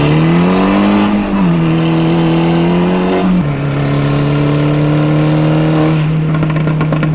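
An AWD Audi engine runs loud and close at a steady idle, settling into a slightly lower drone partway through with small shifts in pitch as the car eases to a stop.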